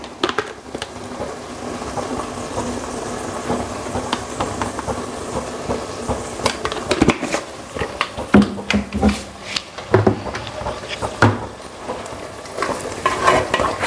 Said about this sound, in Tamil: வெங்காயம் வதங்கிடுச்சு. தக்காளியை சேர்த்துக்கலாம்.